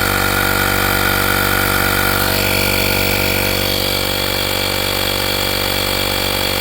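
An AstroAI digital tire inflator pumps air into a flat tire, a loud, steady mechanical drone with a constant buzzing hum running throughout, close up, no talking.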